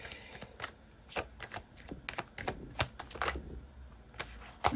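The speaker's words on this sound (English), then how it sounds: "Let's just draw like an angel card just to tie up the reading as per usual." Angel cards being shuffled and drawn by hand, with a string of quick crisp flicks and snaps in bursts and short pauses, close and fairly quiet, with no talking.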